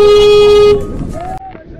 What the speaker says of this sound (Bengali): ভাই আমি হর্ন দিচ্ছি, ভয় পায়েন না।